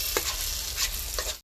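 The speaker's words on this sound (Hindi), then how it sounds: "अब इसको चलाएंगे।" Egg bhurji, eggs scrambled with turmeric, garam masala and salt, gets stirred in a pan: three quick spatula scrapes at an uneven pace over a faint steady sizzle, fairly quiet and close, no one speaking.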